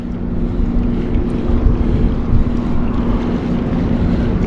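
Strong wind buffets the microphone in a steady, roaring rush, with low rumbling gusts and a faint engine-like drone underneath throughout.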